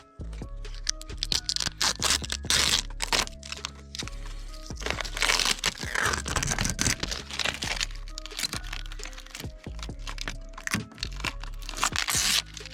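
Plastic film being cut away around a heat-gunned headlight on a BMW E36, giving a steady run of close crinkling, crackling and crunching that lasts throughout with only brief pauses.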